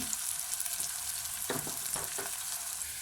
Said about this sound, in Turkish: yarım ay şeklinde doğradığım soğanlarımı ya, kızgın yağın içine attım kavurdum